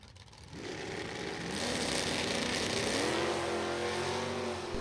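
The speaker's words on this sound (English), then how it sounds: "Ed Kroll, the 67 Camaro, dialed in at 1075 in that gray Beal auto service entry." Drag racing cars, a 1967 Camaro and a 1968 GTO, launch at a drag strip; a loud engine roar swells in after a quiet start and holds steady with climbing pitch, with no talking.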